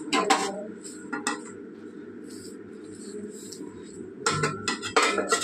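Metal lid set down on a cooking pot of simmering potatoes, pointed gourd and water for a vegetarian curry, giving a few sharp clattering knocks at the start and a cluster of clinks near the end over a low steady stove hum.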